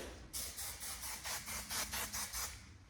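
A rapid series of about ten short, hissing aerosol bursts sprays in a steady rhythm at close range, without any talking.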